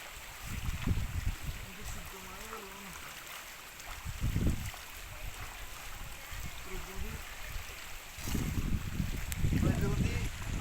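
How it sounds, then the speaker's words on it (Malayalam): Clear water flows down from a mountain in a steady, soft rushing wash, with voices talking over it at intervals. "പ്യുവർ എന്ന് പറയുന്നത് കണ്ണീര് പോലത്തെ വെള്ളം, മലയിൽ നിന്ന് ഒഴുകി വരുന്ന വെള്ളം"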